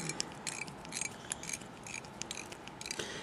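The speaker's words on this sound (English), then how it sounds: "when I screw it in, I can see where I need to stop" A screw is driven into the core of a Dayan 3x3 puzzle cube, making quiet, rapid ratcheting clicks in an irregular run.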